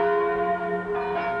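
A church bell in a provincial Czech town rings at five o'clock, a sustained, resonant metallic tone with humming overtones, loud and unbroken with no voices.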